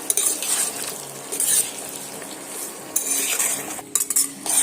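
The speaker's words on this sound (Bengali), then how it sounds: "এবার আমি এই মশলার মধ্যে ঢেলে দিলাম ঢেলে দিয়ে এইভাবে একটু নাড়াচাড়া করলাম" Potatoes stirred into spice masala in a pan for spicy fried aloo, with metal utensil scraping and clinking against the pan in bursts across the clip, a faint sizzle underneath, no talk.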